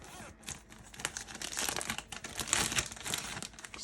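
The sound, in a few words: Ziploc plastic bag being handled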